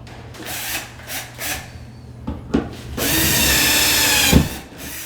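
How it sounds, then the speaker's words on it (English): A power drill with a Phillips bit starts in a few short whirring bursts, then runs in one sustained, high, grinding whine as it drives a screw into a wall while installing a closet shelf, close by. "I'm just using a Phillips head that's already on the power drill."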